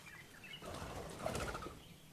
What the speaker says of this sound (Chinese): 哇，这边还有那种野鸽子。